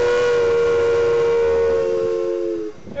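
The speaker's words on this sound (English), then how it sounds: "Chantel says I can blow the whistle." A narrow gauge sugar cane train on Maui sounds a loud, sustained steam-style whistle with steady harmonic tones for nearly three seconds before it cuts off.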